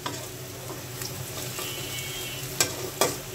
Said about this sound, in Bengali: পেঁয়াজটা আর একটু ভাজা হোক